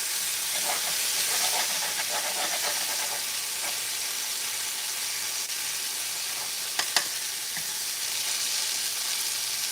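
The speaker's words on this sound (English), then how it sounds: "I'm gonna throw in here just a little bit of bone broth." Bone broth hits a hot pan to deglaze it, producing a continuous bright sizzle and hiss with a few soft stirring clicks, close and steady throughout.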